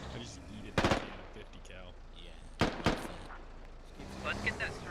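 Gunfire in the Squad military shooter game, two short bursts of automatic fire a couple of seconds apart, moderately close and loud, with quieter battlefield noise and rumble between them.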